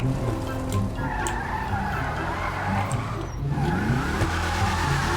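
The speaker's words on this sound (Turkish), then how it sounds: "abi arabanın sesine bakar mısınız? Mükemmel. Mükemmel bir ses." Racing car engine in GTA 5 Online, a Gauntlet Hellfire muscle car, roars continuously with tire skids and squeals, the engine pitch rising and falling as the car accelerates and shifts gears.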